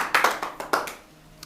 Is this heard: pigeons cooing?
no